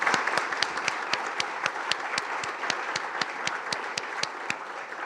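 An audience at a women's equality and democracy panel gives steady, sustained applause, with dense clapping and sharp individual claps standing out at a fairly even rhythm throughout.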